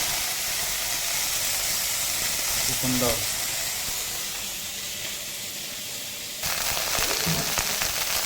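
Oil sizzles and crackles steadily as moringa leaves fry in a kadhai, close up, with a brief spoken exclamation over it and a louder burst of frying near the end.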